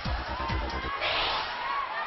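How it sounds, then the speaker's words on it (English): A crowd of volleyball fans in a packed arena at a UAAP semifinal, a dense roar of cheering and shouting that swells midway, steady and loud with no clear single voice. "Every move that these players make, you see the fans really cheering."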